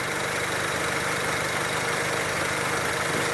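A Mazda MX-5 engine idles with a fuel-system-rich fault, a steady, even mechanical hum that holds at constant loudness throughout with no voices.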